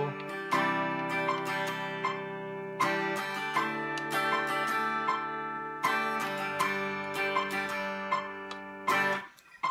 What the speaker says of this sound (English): You can hear the metronome ticking away in the background.